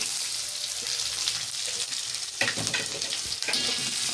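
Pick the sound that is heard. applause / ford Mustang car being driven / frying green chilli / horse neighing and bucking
frying green chilli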